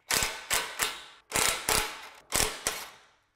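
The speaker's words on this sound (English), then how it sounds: "Using a 17 millimeter socket with an impact or wrench, take off the two nuts here and the one bolt found here." A socket wrench ratcheting on car suspension nuts during a coilover install, close sharp clicking ratchet strokes in four quick bursts, each a rapid series of clicks that fades out.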